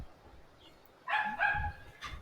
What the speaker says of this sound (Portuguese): Cara, olha a cachorrada latindo.